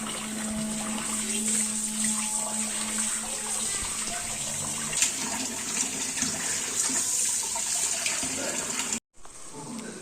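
Water runs steadily from a kitchen tap while raw chicken is washed for a home-made chicken biryani, a continuous close splashing hiss with a low hum beneath, cut off briefly near the end.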